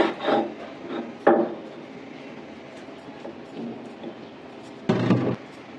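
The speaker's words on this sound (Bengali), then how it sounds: "এখন আমি এই পেঁয়াজ, রসুন, কালো জিরা এগুলো বেটে নেব।" Onion, garlic and black cumin being ground on a grinding stone give rough, rasping scrapes: a strong stroke at the start, another near the first second, a loud burst near the end, and softer rubbing in between. No one speaks.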